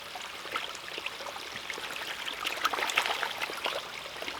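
A Blackbird Multi Bag water filter bag is swished through a container of water to soak its fabric, giving faint, continuous trickling and sloshing with small splashy spikes.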